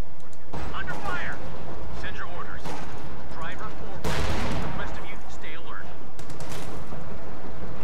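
Battlefield gunfire in Company of Heroes 2 rings out as scattered rifle and machine-gun bursts with a heavy boom midway, loud and dense, with voices mixed in among the shots.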